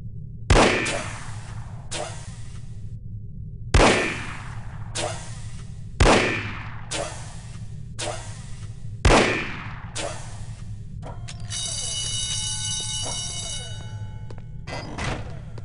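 Loud pistol shots from a P-38 9mm automatic in the video game No One Lives Forever: four sharp reports spaced a couple of seconds apart, each with a decaying tail over a steady low hum, then a metallic mechanical clatter near the end.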